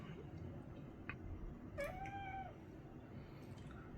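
A pet cat gives a single short meow, fairly faint, over a quiet room hiss, with a few tiny clicks before it and no talk.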